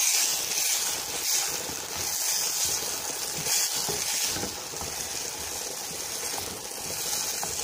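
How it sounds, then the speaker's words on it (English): Steady, dense sizzling of goat meat cubes frying with salt and chili oil in a hot pan, continuous and fairly close, with no voices. "we are going to be frying these for about 10 minutes"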